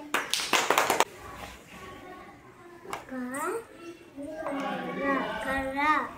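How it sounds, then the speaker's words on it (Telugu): Schoolchildren in a primary classroom burst into a quick run of sharp claps at the start, followed by a child and an adult speaking. "క్లాప్స్ కొట్టండి గట్టిగా."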